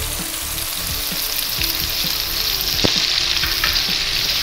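Onion, cumin and curry leaves frying in a pan for drumstick sambar, a loud continuous close sizzle with a few scraping stirs of a spoon, no voices.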